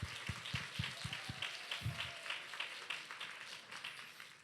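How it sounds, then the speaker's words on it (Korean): A church youth congregation claps in welcome, a few sharp claps up front giving way to a steady, fairly faint patter of many hands. "환영의 박수."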